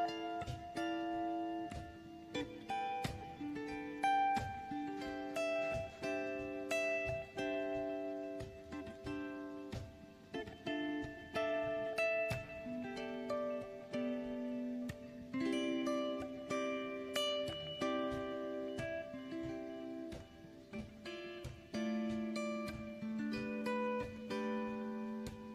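A jazz guitar moves through a series of add 9 chord inversions, each chord struck and left ringing in a slow, even progression, played clean and fairly quiet.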